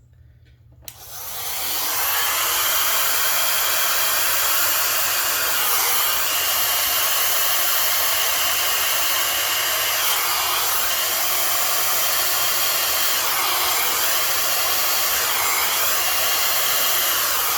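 A hair dryer set to cool and high heat blows in a loud, steady rush that starts abruptly after a brief quiet moment and holds constant throughout, with no talking.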